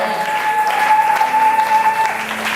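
A church congregation at a Friday service applauds for Jesus with steady, dense clapping throughout, and a sustained tone rings beneath the crowd noise.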